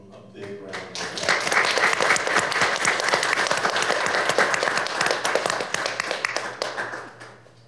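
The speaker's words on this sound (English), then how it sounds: "Let's give these folks, all of them, a big round of applause." A city council meeting audience breaks into applause that builds quickly to a loud, dense round of clapping, holds for several seconds and then tapers off.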